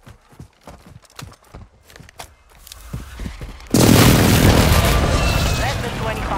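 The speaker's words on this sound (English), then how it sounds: "Enemy precision airstrike." In Call of Duty Warzone 2, a precision airstrike lands as a sudden loud, roaring explosion blast, which is sustained after a stretch of quieter thuds and voice chatter.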